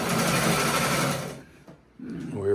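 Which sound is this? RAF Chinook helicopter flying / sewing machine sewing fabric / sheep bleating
sewing machine sewing fabric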